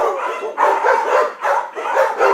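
A dog barks at a door in a close, loud burst of several yelping barks spread across about two seconds, with no other sound around them.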